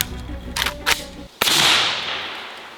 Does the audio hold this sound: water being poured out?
no